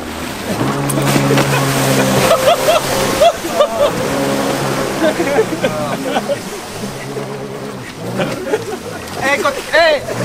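A jet ski motor whines nearby, with water splashing and spraying, while people shout and laugh over the engine.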